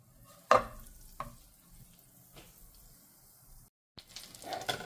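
Butter melts in a pan while soup is being cooked, a quiet sizzle broken by a few clinks of a utensil stirring against the pan, followed by a brief gap and rising frying noise.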